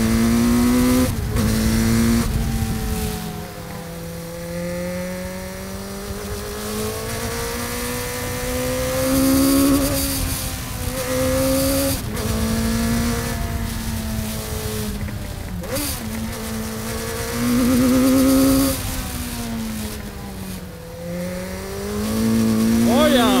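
Custom trike powered by a Ninja 900R motorcycle engine, its steady engine drone rising and falling in pitch as it drives and corners, loud and close throughout with a voice talking over it.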